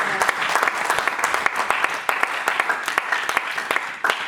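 Dense applause from a church congregation cheering for Jesus, sharp irregular claps layered into a loud, sustained wash that pulses briefly and fades slightly at the end.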